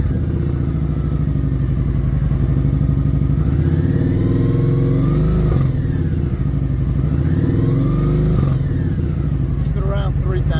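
Engine of a 2013 vehicle running after a swap to a 2012 ECU, revved up and down repeatedly around 3,000 rpm, with close, loud, rising and falling engine tones and voices talking over it.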